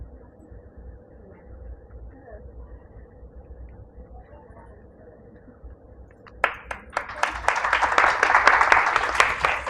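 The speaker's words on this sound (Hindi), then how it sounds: "आप जोरदार तालियों की गगराहट से उनका अभिनंदन स्वागत करेंगे" A quiet hum at a one-day seminar gives way partway through to loud audience applause welcoming a speaker, a burst of many hands clapping that grows and continues to the end.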